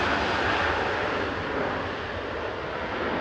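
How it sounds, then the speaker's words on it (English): A Jet2 airliner roars steadily overhead during a go-around at Manchester Airport, a loud, broad engine rumble that continues throughout. "Jet2 962 from Dubrovnik. Yeah. Just done a go round."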